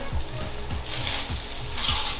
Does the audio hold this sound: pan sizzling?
yes